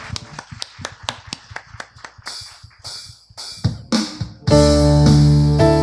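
A church congregation at a Sunday worship service claps in a sharp, regular rhythm, and after a few seconds loud music swells in over the clapping.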